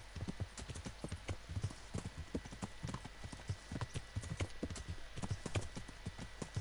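Horse hooves clip-clop steadily in a quick, even trot in Kingdom Come: Deliverance, a medieval-set video game, heard alone at moderate volume with light background ambience.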